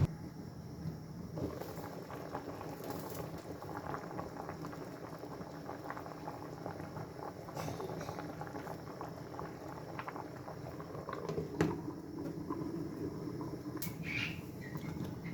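Grains simmer in a covered pot with a low, continuous bubbling boil, fairly faint and steady. Small pops and lid rattles rise from time to time, and no one speaks.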